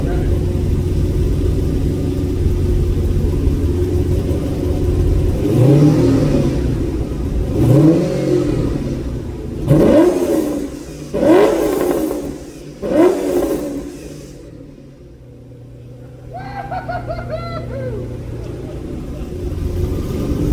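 An off-road truck engine with a NASCAR boom tube exhaust rumbles and revs in repeated throaty bursts up close, the exhaust roaring then easing back to a low idle, with voices talking over it.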